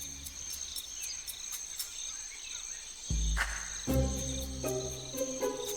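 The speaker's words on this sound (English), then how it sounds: "A cricket." A cricket chirps in quick, regular high pulses at a spider's den entrance, moderately close, before a couple of heavy low thumps and rustling sounds break in partway through.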